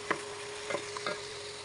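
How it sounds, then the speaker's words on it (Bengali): Potatoes sautéed and stirred in a pan give a few brief scraping strokes over a steady low sizzle, close and moderately loud, with no voices. "আলুটাকে কষিয়ে নিই"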